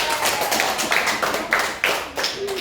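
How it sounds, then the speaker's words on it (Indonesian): Brief applause from a class of students during a micro-teaching lesson, a few seconds of quick, fairly close clapping with an uneven rhythm. "Boleh aplaus untuk kita semua."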